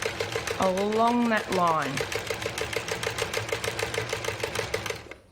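An old mechanical sewing machine stitches along a marked line for foundation paper piecing, a steady, rapid mechanical clatter close by that runs under a woman's speech and keeps going after she stops.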